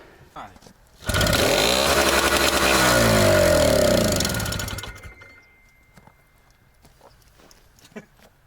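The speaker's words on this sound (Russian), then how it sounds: "Сейчас наша задача запустить этого монстра." A T-74 crawler tractor's diesel engine cranks and catches with a loud, rough, pulsing roar close by, holds for several seconds, then cuts out and leaves quiet clatter behind.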